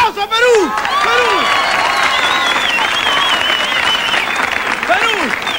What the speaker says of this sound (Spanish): ¡Aplauso a Perú!